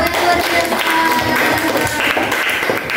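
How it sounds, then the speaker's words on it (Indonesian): A classroom group applauds, a dense, steady wash of many hands clapping nearby for a few seconds, with faint voices mixed in. "Tepuk tangan buat kalian semua"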